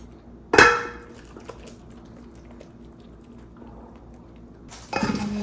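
Cooked pasta stirred together in a pot with creamy Italian sausage sauce, heard as a sharp clack of a utensil against the pot, then a quiet stretch and a second scraping, clattering burst near the end.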